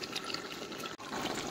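Hot water poured into a pot while cooking a chicken handi at home: a steady, close splashing stream with one brief break midway, no voices over it.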